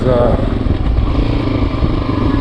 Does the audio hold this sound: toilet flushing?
no